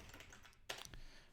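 Keys on a computer keyboard clatter in a short burst of soft clicks, with a louder cluster of strokes partway through, heard close without any voices.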